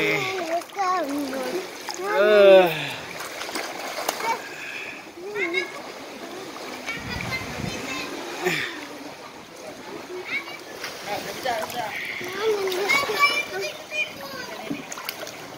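Sea water at a beach splashes and churns irregularly as children swim, chattering and calling out nearby, with one louder burst of splashing early on.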